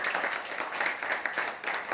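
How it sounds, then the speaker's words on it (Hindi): Audience applause at an RCM event, a continuous dense roll of many hands clapping together for two seconds. "एक बार जोरदार तालियां होनी चाहिए दोनों के लिए।"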